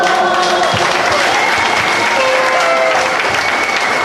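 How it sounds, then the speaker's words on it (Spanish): A festival audience applauds at a mariachi event, loud and close, in a dense, continuous wash of clapping that holds steady for about four seconds without letting up. "Un fuerte aplauso más para ti, Shiny Gerardo."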